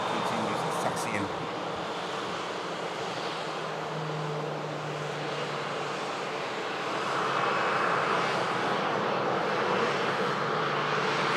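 A Ryanair Boeing 737 MAX 8-200 taxis at Manchester Airport, its engines giving a steady, loud broadband roar that swells slightly toward the end, with a brief low tone midway.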